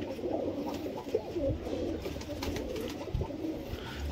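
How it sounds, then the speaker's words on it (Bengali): High flyer pigeons coo softly in a low, rolling murmur that runs on for several seconds, faint and nearby, with no talk over it. "পায়রা ছেড়ে দেখানো হচ্ছে, স্ট্যান্ডিং দেখুন মাদাটার।"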